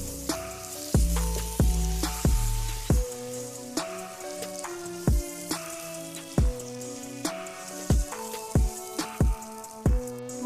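Butter and marshmallows are stirred in a pot with a string of clear, resonant spoon knocks against the sides over a soft background hiss, close and fairly regular, with no speech.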